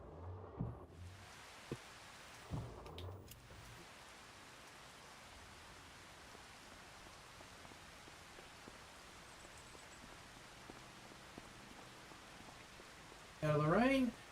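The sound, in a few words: rain falling in video game Farming Simulator 25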